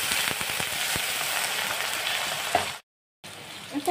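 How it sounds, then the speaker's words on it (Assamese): Onions fry in a pan for fish curry with a continuous bright sizzle and light crackle up close, then a brief silent gap and a quieter sizzle resumes. "পিঁয়াজখিনি এনেদৰে ভাজি ল'লোঁ।"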